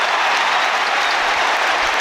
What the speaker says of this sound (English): the hush around St James's Park becomes one mighty cheer